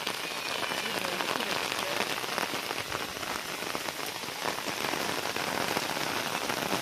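Steady, dense monsoon rain pours down without pause in a village during flooding, a heavy continuous hiss drumming on surfaces with no voices.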